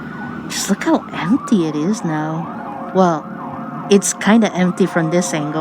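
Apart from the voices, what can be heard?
emergency vehicle siren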